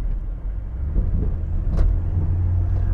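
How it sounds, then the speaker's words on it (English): A Ford Mustang driving uphill produces a loud, close, continuous low engine rumble that swells slightly in the middle, consistent with shifting between first and second gear. "She's going up the hill. She's changing gears,"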